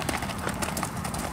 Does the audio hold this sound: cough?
no